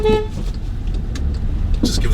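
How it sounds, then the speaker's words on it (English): A car horn gives one short honk in traffic on a rainy road in Mexico, a brief close toot at the start, then the hum of the car's engine and road noise. "just give that guy a honk so he doesn't run into me"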